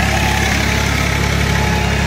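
A tractor engine pulling a seed drill drones steadily and loudly close by, with a constant low rumble and vibration, running continuously without pause.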